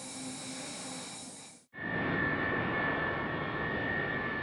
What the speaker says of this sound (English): An Antonov 124 landing at Cape Canaveral's skid strip runway.